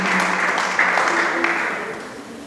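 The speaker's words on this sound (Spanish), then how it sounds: "Dele palmas al Señor." A church congregation applauds during an evening service, producing a loud, continuous wash of clapping that fades slightly toward the end, with faint voices mixed in.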